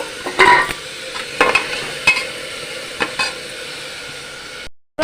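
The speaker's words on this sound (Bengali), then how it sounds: "সবজিগুলো একটু হালকা নাড়াচাড়া করব মানে জাস্ট একটু হালকা ভাজা ভাজা মতো হবে" A spatula stirs vegetables lightly frying in a pan for sago khichuri, giving a steady soft sizzle broken by several sharp scraping clacks, with no voices.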